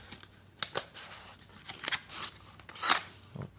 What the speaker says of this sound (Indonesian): Kita buka yang satu, kotak pertama.